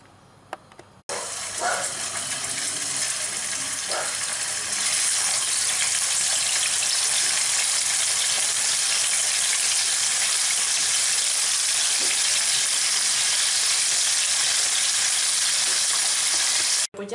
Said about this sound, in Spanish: para ahora dorarlo aquí en el aceite que ya tengo, o bien en una cacerola o bien en una sartén amplia